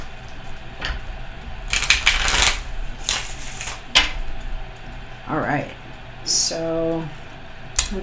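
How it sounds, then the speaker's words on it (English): A tarot card deck being shuffled at close range, with several short bursts of riffling and flicking cards and some soft taps between them, alongside intermittent speech. "This first shuffle will be for you all."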